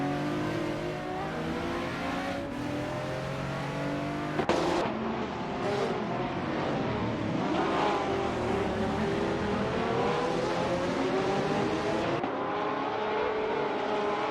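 Several race cars, a Porsche among them, lapping Daytona in a GTS class video game race, engines droning and revving continuously with shifting pitch, a dense steady roar with a brief sharp tire-type burst near the middle.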